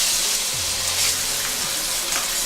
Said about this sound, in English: So I'm gonna add my onion.